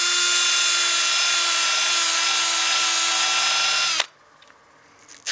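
A power sander whirs steadily and loudly against the inside rim of a turned wooden bowl, holding a constant high-pitched tone for about four seconds before cutting off abruptly into near silence.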